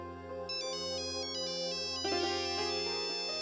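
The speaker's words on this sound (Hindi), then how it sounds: "प्लीज नैतिक, पता नहीं कोई जरूरी फोन तो नहीं।" Melodic electronic phone ringtone playing steadily as a repeating tune in an Indian TV drama scene, faint and clear with no speech over it.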